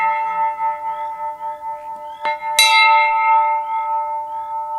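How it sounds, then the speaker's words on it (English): A spinning earth bell rings out clearly, two sharp strikes followed by a long, steady shimmering tone that lingers and slowly fades. "Earth bell likes to spin around, and as it does, it sends the sound in all different directions."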